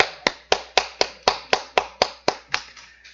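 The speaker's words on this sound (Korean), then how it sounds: "박수" Eleven or so sharp, evenly spaced hand claps, close and fairly loud, in a steady rhythm lasting about three seconds with no talking over them, during a Korean technical drafting class on shaft and bearing drawings.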